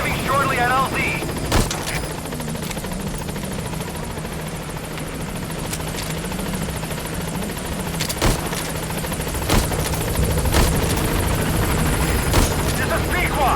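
A helicopter in Metal Gear Solid V comes in to a landing zone, its steady rotor thrum filling the scene while sharp gunshot-like bursts crack out at intervals and a voice speaks over it.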